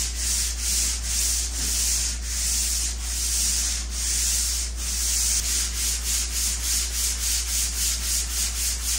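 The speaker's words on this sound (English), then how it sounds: "I'm just going to sand that up" Drywall mud being sanded by hand, rhythmic back-and-forth scratchy rubbing strokes, close and steady over a low constant hum, with no talk.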